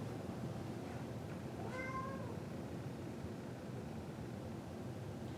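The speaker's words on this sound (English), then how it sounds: "And my cat is trying to come in. Oh, I know they're meows too" A cat meows at a door, a single short harmonic call partway through over a steady broad background hiss, fairly faint and alone without talk.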